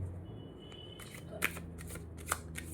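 Tarot cards being shuffled, with short riffling bursts and a couple of sharp flicks, fairly close and quiet.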